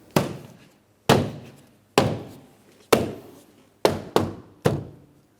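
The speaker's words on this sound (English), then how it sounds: "I'm going to tap it in all the way around the door panel" Seven firm, hollow thunks as a Mitsubishi Outlander front door panel is tapped into place, one after another at a steady pace, the last few coming quicker, each fading briefly before the next.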